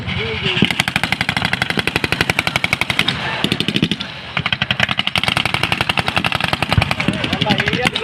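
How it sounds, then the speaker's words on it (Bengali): Sustained rapid automatic gunfire during an army infantry fire-and-movement exercise, a loud, close, rattling stream of shots with a brief lull before bursting again. "শত্রুর উপর ফায়ার রচনা করা"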